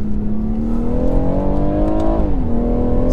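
A 2018 BMW M140i, rear-wheel drive, launches hard from a standstill, its engine note climbing steadily and loud through the gears with a brief dip at a shift before pulling again.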